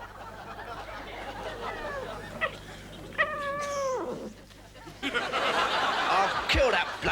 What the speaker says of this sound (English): I'll kill that bloody cat.